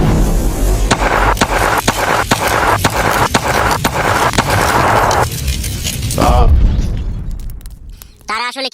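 Gunfire and explosion effects in a comedic alien-attack skit: a rapid run of sharp, loud bangs for about five seconds, then a rumbling burst and a rising whoosh, with a voice speaking briefly near the end.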